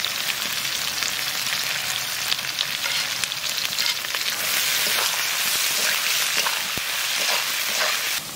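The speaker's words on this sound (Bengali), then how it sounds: "পেঁয়াজটা তাড়াতাড়ি ভাজা হয়ে যাবে" Onions fry in hot oil with salt, a constant close crackling sizzle with occasional stirring clicks, loud and even throughout and without any talking.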